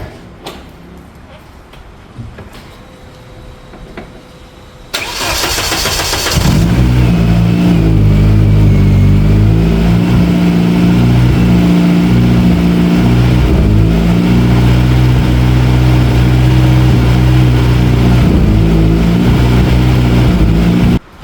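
After a few quiet clicks, an abandoned rally car's engine, unused for years, cranks and fires up loudly nearby, then settles into a steady, rumbling idle that keeps running.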